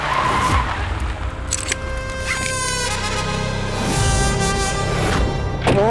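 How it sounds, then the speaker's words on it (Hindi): A car brakes hard and skids to a stop, its tires letting out a long, loud, wavering squeal over engine rumble for several seconds, with no voices. "सिकंदर गाड़ी रोक।"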